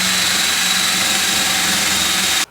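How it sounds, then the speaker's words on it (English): Power drill running steadily at a high whine while boring into a Jeep CJ7 tub, loud and continuous, then cutting off abruptly at the end. "I don't know how many RPMs this drill is, but it goes up to over 20 for drilling."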